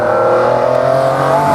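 A McLaren supercar engine, from the McLaren P1 or F1, revs hard on a drive, a loud sustained tonal roar with a steady pitch and a slight rise toward the end, close up with no talk.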